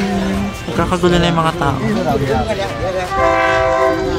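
A late train arrives at a station in Ayutthaya, Thailand, sounding loud horn blasts at the start and again near the end, with rumbling rail noise between and someone talking close by.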